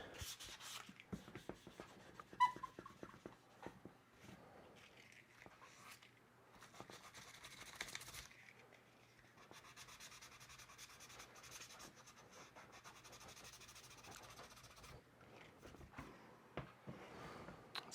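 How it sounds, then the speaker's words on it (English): Paint on a blaster rifle prop being sanded by hand with 220-grit sandpaper, a faint, continuous scratchy rubbing with irregular strokes, close up and quiet. "Don't want to use the 150 paper, leaves quite a few scratch marks rather than a more general sanding kind of"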